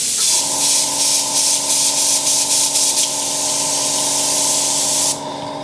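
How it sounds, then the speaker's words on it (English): An Iwata HP CS Eclipse airbrush sprays water in a continuous hiss for several seconds with a steady whine underneath, pulsing slightly before the spray cuts off and the tone lingers. "as a test you can just spray some water back in"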